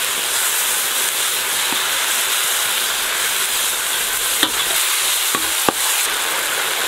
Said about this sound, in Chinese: 鲍鱼汁儿拌拌